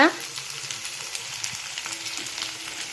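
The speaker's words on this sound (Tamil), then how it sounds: "நல்லா இந்த மாதிரி நல்லா கிளறி விட்டாச்சு" Taro root (colocasia) fry sizzling in a pan as it is stirred, a close, steady crackle with scraping stirs and a brief clang at the start.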